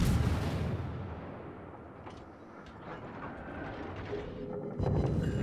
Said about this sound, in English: Fire at this Ogami right before I go behind the island.